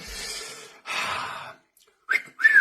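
A person trying and failing to whistle: breathy, airy blows with a faint thin tone slipping through near the end, separated by short pauses.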